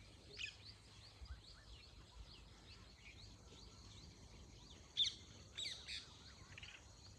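Faint, scattered chirps and tweets of birds including parrots come from a distance across a farm, a few sharper calls popping out amid quiet outdoor ambience.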